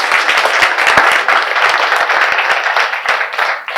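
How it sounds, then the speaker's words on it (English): Close, loud applause from a conference audience, dense clapping with sharp individual claps standing out, sustained evenly before tapering at the end. "We could give you a round of applause."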